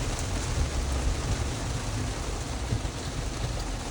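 Steady rain falls during a car drive, a dense hiss with low rumbling drumming on the vehicle, constant and fairly quiet throughout with no voices.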